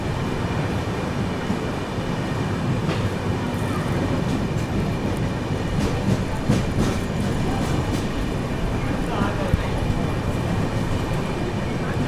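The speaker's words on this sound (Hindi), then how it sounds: "यहाँ पर अपनी संपर्क क्रांति जो है स्किप कर रही है वलसाड रेलवे स्टेशन को" The Maharashtra Sampark Kranti Express rushes steadily through Valsad railway station without stopping, a continuous loud rumble with rattling wheels and clatter lasting throughout.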